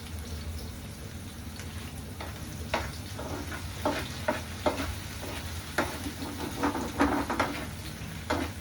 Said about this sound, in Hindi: इसको थोड़ा सा होने देते हैं फ्राई।